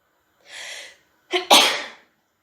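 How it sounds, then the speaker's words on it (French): Two sneezes from one person in a quiet indoor setting: a breathy intake then a sharp, loud double burst, close to the listener with no other sound around it. "j'éternue à chaque fois minimum par 2 coups"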